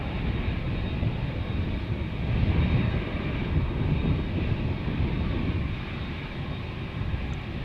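Airliner jet departing Amsterdam Schiphol Airport, a loud, steady, broadband engine roar that swells slightly and holds, heard close and alone.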